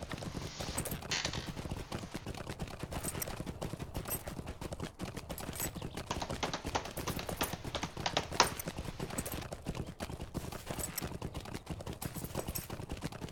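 Horse hooves in the online game LotRO, a steady rhythmic clip-clop of riding that continues throughout at moderate level, with background game sounds.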